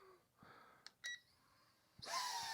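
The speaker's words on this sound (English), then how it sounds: "pressing and holding its on-off button until we hear the beeps" A ZLL SG100 Plus 2 FPV drone-plane powers on with a few short electronic beeps in a quiet room, spaced unevenly, followed by a rising tone and a burst of higher whirring at the end.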